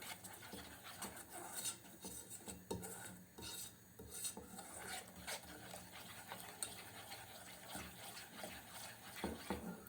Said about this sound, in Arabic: كده بقى حطيت الصوص بتاعنا اهو على النار، قلب فيه